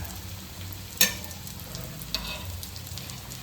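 Fish fries in oil on a tawa, giving a quiet, steady sizzle with a sharp spatter or utensil clink near the start and another small pop later.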